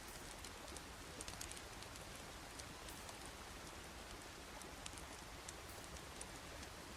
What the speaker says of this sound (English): There's something oddly relaxing about just waiting on the screen too, especially in this rain.